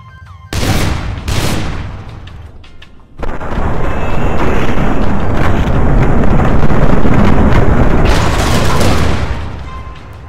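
Explosive large-caliber bullets detonate in People Playground: a couple of sharp booms early, then a dense, continuous roar of rapid blasts lasting several seconds, loud and close, tapering off at the end.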